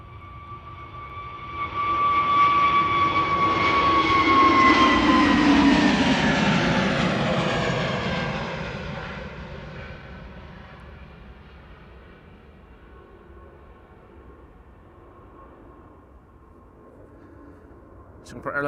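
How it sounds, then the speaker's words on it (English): Singapore Airlines Airbus A350 taking off at Amsterdam Schiphol, jet roar swelling from afar to a loud peak with a whining engine tone, then fading slowly into the distance while a voice talks. "Singapore A350 is also taking off right now."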